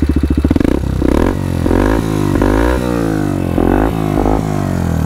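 Comanche 300cc ATV engine revving hard with a rumbling aftermarket muffler, loud and close, repeated throttle blips rising and falling over a steady low exhaust growl, no talk.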